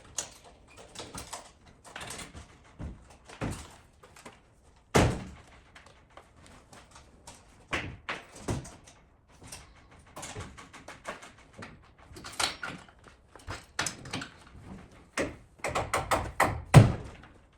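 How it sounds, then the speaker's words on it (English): Back doors and ramp of a horse box being lowered, a series of hollow metallic thunks, bangs and rattles at irregular intervals, close by and fairly loud, with quieter clicks and scrapes between them. "So let me just pop down those back doors and the ramp,"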